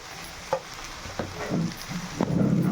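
Okra fry being stirred in a pan after salt and chilli powder go in, a few soft scraping strokes over a low sizzle, growing slightly busier toward the end.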